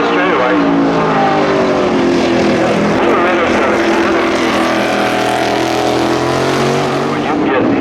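A vintage race car accelerates along a track straightaway at Monterey, its engine a loud, continuous drone with rising harmonic tones over steady wind and road noise for the whole stretch.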